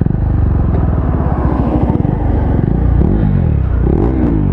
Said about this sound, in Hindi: सो इसका मैं आपको एग्जॉस्ट साउंड सुनाता हूँ।